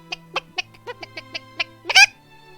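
Cartoonish chicken clucks in the game I Love You Colonel Sanders: a quick run of about ten short, evenly spaced clucks, ending in one louder, higher squawk, with a low steady hum underneath.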